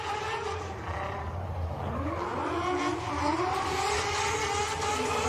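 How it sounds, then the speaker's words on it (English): Two drift cars at a Klutch Kickers drift series event, one a rotary-engined Mazda, their engine notes overlapping in rising and falling whines, moderately loud and continuous with a faint tire squeal. "you're getting to hear two engine notes that it's a rare occurrence now"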